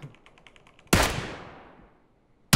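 Loud single gunshot blast in the game PUBG with a long echoing tail fading over more than a second, a faint rapid ticking before it and a second sharp shot at the very end.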